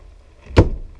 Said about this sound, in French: La porte se ferme.